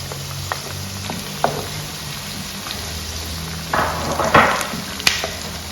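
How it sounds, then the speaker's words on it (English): Steady sizzling and hissing as blended pepper hits hot oil in a Ghanaian garden egg stew, with a few sharp pops and a louder burst of crackle near the end; close and continuous. "I'll go ahead and add my blended pepper."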